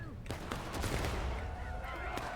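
Gunfire from soldiers in a Civil War battle at Burnside's Bridge in a multiplayer video game, several sharp shots popping over a dense rumbling battle din, with shouting voices mixed in.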